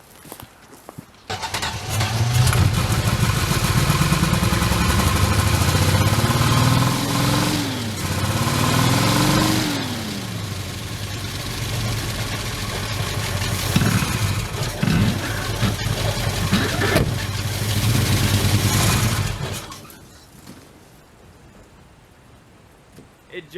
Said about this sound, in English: It jolts it too hard, it bogs the engine down.